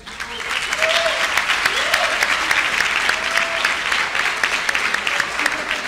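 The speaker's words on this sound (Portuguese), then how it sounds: "Uma salva de palmas." Clapping fills a university hall at UniCuritiba as an audience applauds a student representative, a dense, sustained roar of many hands lasting the full six seconds, with scattered voices and a faint whistle underneath.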